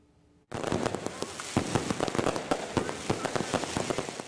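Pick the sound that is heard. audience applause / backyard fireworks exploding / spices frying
backyard fireworks exploding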